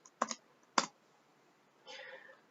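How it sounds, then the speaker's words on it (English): Typing on a computer keyboard while entering a short Python help command, with a few distinct key clicks in quick succession and a softer clatter after a pause, close and quiet with no talking. "I'm just going to go ahead and type help and GeoPandas"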